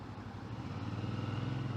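A 2018 Suzuki DL650 V-Strom motorcycle engine drones steadily while riding, a low continuous hum that rises slightly in pitch toward the end, with no talk.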